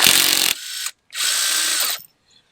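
A power tool bursts into two close, loud runs while loosening the front sprocket nut on a BMW F800GSA motorcycle, the first run lasting nearly a second and the second running about a second after a short gap, then the tool stops.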